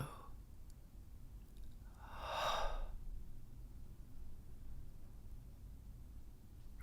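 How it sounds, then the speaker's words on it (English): A deep breath during guided meditation, one soft, airy exhale rising and falling over about a second, near and quiet over low room hum. "As you breathe between your belly button and your heart space,"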